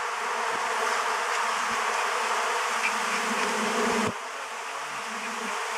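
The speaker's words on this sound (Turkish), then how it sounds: "Arıları çek şu tarafa tut" Honeybees swarm around beehives in a dense, continuous buzzing drone that stays loud throughout and dips slightly toward the end.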